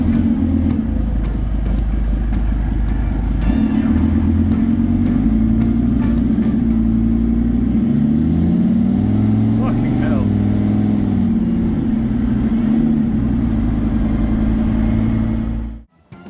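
Engine of a road-registered project car revving and settling back to idle, loud and close with a deep steady rumble and rising pitch sweeps; a man swears over it before it cuts off at the end.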